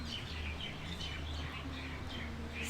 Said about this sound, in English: And the chirping of the birds.